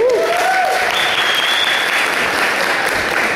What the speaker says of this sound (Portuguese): Eu queria pedir uma salva de palmas pro Wilson.